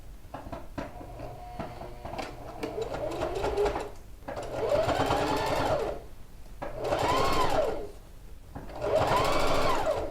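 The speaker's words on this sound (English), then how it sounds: "I'll also create a line of stitching here to attach the lining to the jacket at a 1/2 inch" Three sustained runs of a sewing machine attach the lining to a quilted jacket at a half-inch seam, the motor whine climbing and easing each time, with clicks and fabric handling before the first run.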